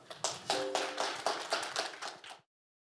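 A short burst of hand clapping at a university forum, a handful of distinct claps in a steady rhythm, fairly close, stopping abruptly.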